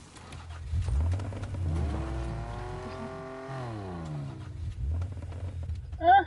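A car in Fortnite, its engine droning low and rising into a revving, roaring pitch sweep before settling, with a sharp burst near the end.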